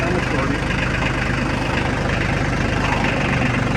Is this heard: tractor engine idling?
yes